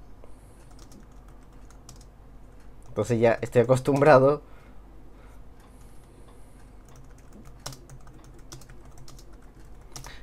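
Soft clicking of typing on a compact Subblim Keytab Pro Bluetooth keyboard built into a tablet case, a light run of keystrokes heard near and fairly quiet, with a short stretch of someone speaking partway through.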